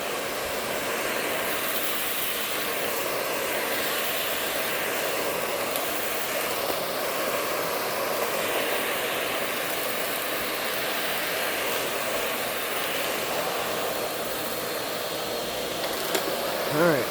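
A Shark Navigator Professional NV60 vacuum cleaner runs steadily over a mat on a front porch, a continuous loud whirring motor drone with no breaks throughout.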